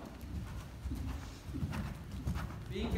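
Horse hooves clip-clop steadily on an arena surface during a riding training session, a continuous near rhythm of muffled footfalls with low background noise.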